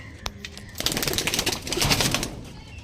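Pigeons in a loft coo and rustle close by, a soft run of throaty calls with a sharp tap near the start and fluttery shuffling, no one speaking.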